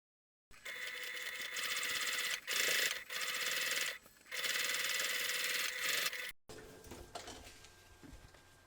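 Sewing machine topstitching along a seam on a main fabric panel, loud rapid mechanical chatter in three bursts with brief pauses, close up, then a quieter clattering tail with no talk.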